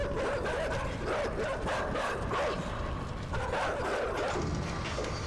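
Dogs bark and yip continuously in the video game INSIDE, with rapid, overlapping barks filling the scene at fairly close range.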